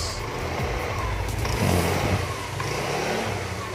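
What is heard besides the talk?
Yamaha Mio Soul scooter engine revving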